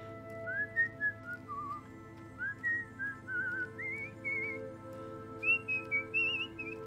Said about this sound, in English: I'll keep whistling. It's a friendly sound.